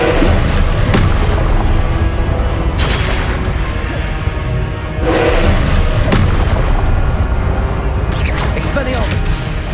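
A Confringo fire spell explodes in the Hogwarts Legacy video game, a loud booming blast over dense battle noise, with further bursts and impacts close together and a voice calling out spells.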